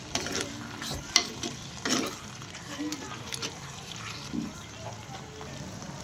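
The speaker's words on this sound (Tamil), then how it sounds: "வெல்லம் சேர்த்து நல்லா கிண்டி விடுவோம்." Mango pachadi with jaggery is stirred in a pan, giving soft scraping and thick bubbling with a few sharper clinks of a spoon against the vessel, moderately quiet and close.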